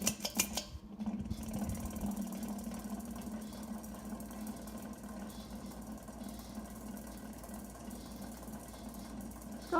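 A 52-inch first-generation FASCO Charleston ceiling fan runs on high, giving a steady close motor hum with a faint whirring drone and a slight rattle, continuous and unbroken for the whole stretch.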